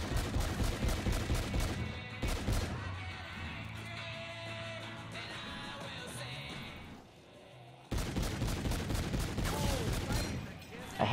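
Rapid bursts of gunfire from Call of Duty Infinite Warfare Zombies in Spaceland, loud volleys of shots with a quieter lull in the middle before dense firing resumes.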